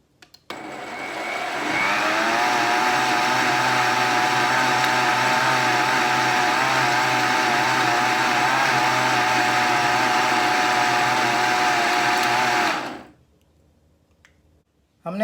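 An electric blender whirs loudly and steadily for about eleven seconds while mixing yogurt and gram flour batter, then cuts off abruptly into near silence.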